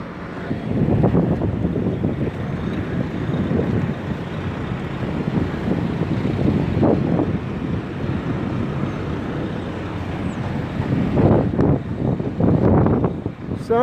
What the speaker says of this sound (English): Sound Effect boat.